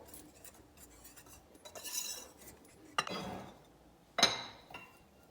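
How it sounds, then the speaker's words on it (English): Dry cookie ingredients, including baking soda, are mixed in a medium bowl for dairy-free chocolate chip cookies, making quiet utensil scrapes and a couple of sharp clinks against the bowl, close up and alone. "Mix that all together in a medium bowl."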